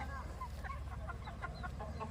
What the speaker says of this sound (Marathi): कोंबड्या पूर्णपणे घाबरलेल्या आहेत